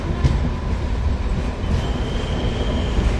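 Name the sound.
passenger train arriving at platform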